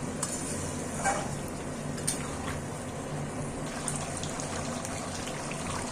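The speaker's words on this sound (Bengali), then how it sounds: "এখন আমি এই জলটা দিয়ে দিলাম" Water goes into a pan of fried spiced cauliflower curry, a soft steady gushing and sizzling stir with a few faint clinks, close and continuous.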